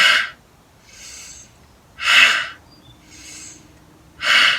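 Forceful yoga breaths are pushed out through a wide-open mouth: three loud, breathy exhalations, each about half a second, alternate with softer inhales at a steady rhythm, close and unaccompanied.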